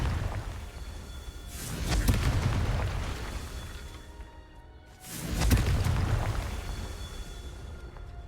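Two heavy spell explosions from the Confringo spell in Hogwarts Legacy, each a sudden booming burst with a rushing whoosh that trails off, about three seconds apart.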